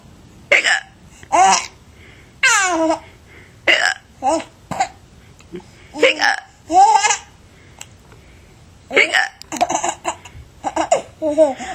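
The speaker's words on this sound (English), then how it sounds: "Mama has the hiccups." A woman hiccups again and again in sharp, separate bursts spaced a second or so apart, close and loud, mixed with bouts of laughter that include a baby's giggles.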